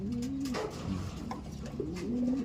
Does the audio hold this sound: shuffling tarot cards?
no